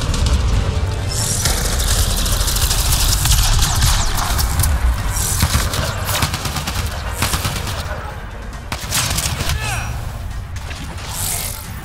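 Loud, sustained gunfire from a firefight in Mass Effect Andromeda, with dense automatic bursts and sharp single cracks that continue throughout, thinning slightly near the end.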